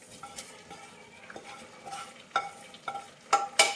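Sautéed carrot is tipped into half-cooked moong dal for carrot payasam and stirred, giving soft scraping and a few sharp utensil clinks on the pot that grow louder toward the end, with no talking.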